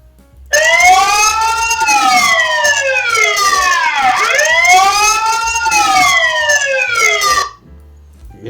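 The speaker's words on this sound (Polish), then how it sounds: "Teraz zobaczymy, jak włączę syrenę." Built-in siren of a Tenda CP6 360° home security IP camera wailing loud and close, sweeping up and down in pitch for about seven seconds before cutting off abruptly.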